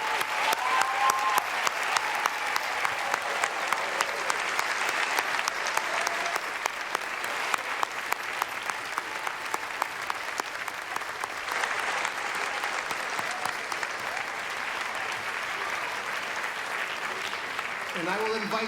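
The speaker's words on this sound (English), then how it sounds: "let's give them a round of applause for serving on the council this year." A seated audience applauds newly recognized student council members at an MBA student council address, steady sustained clapping filling the room for the whole stretch without pause.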